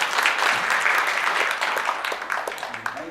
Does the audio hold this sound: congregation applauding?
yes